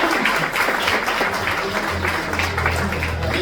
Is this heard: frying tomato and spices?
no